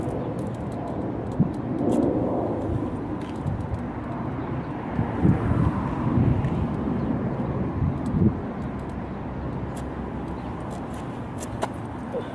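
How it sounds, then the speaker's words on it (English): A small airplane flies by under a crisp blue sky, its low engine drone steady and moderately distant for about twelve seconds, with a few faint bird chirps and light ticks above it. "Little plane going by."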